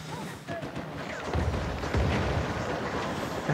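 An RPG explosion in the video game Uncharted 4 booms with heavy rumbling blasts that swell and linger, loud and close, amid ongoing gunfire-like crackle.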